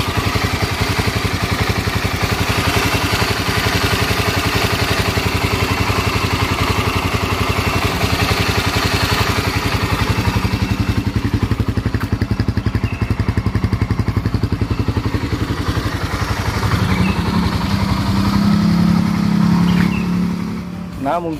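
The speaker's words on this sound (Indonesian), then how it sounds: "Nah, ini suara dari DOHC Honda zaman dulu ya." An early Honda DOHC motorcycle engine, from a first-generation Thai-built Honda CBR 150R, runs loudly and close, a steady buzzing idle with a busy mechanical clatter, briefly rising before settling.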